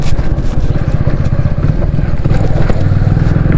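A motorcycle with a worn, splitting rear tyre rides along a road, its engine a steady, loud, close drone with a rattling undertone throughout.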